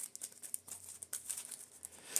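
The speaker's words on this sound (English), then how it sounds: "Now we can shuffle our discard pile" Quick papery riffling and crinkling of a discard pile of cards being shuffled for the Marvel Champions card game, soft and close, in a series of short irregular bursts without talking.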